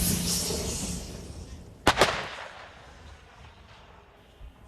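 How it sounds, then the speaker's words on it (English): Ukrainian army artillery firing on Russian forces in eastern Ukraine: a single loud, sharp blast with a short echoing tail over steady outdoor rumble, then quieter ambience. "We went with Ukraine's army to see artillery already firing on Russian forces"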